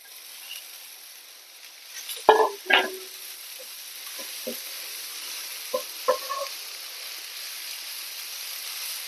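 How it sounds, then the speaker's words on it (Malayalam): Chopped spinach is stirred into onion, garlic and coconut frying in a pan for an egg and greens thoran, a steady soft sizzle with a few scraping stir strokes and clinks near the start, nobody speaking. "ഇത് നമുക്ക് മുറിച്ച് വെച്ചിരിക്കുന്ന ചീര ഇതിലേക്ക് ചേർക്കണം"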